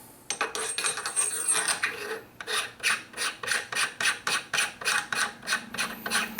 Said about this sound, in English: Put your barrel nut back on.